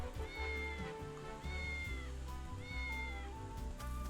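A cat in the Triangle Strategy video game meows three times in short, clear calls, spaced about a second apart over steady background game music.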